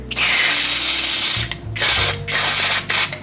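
An old mountain bike's sticky freewheel spins with a loud, fast ratcheting buzz while degreaser is squirted in. The clicking stops and restarts in several short bursts, close up.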